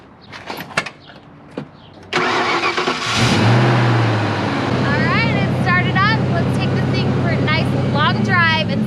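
Ford Fox Body Mustang engine cranks and fires up after a repair, then settles into a steady loud idle and drive, with brief talk before the start and bird-like whistles over the running engine.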